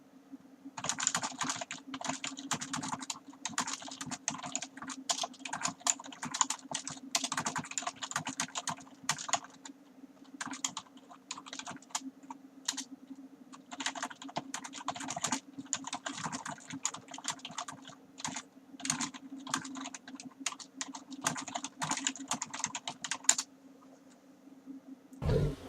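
Rapid typing on a computer keyboard, bursts of close, crisp key clicks in uneven runs with short pauses, over a steady low electrical hum throughout.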